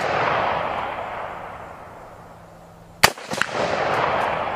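A single sharp, loud gunshot cracks out from an AR-15 rifle firing 7.62x39 rounds, followed by a brief echo, set against steady outdoor wind noise before and after.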